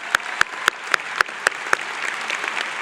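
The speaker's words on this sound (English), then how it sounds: "Let's give them a round of applause." At a medical college white coat ceremony, one sharp nearby pair of hands claps in an even rhythm, seven crisp strokes, over softer audience applause that swells and carries on alone.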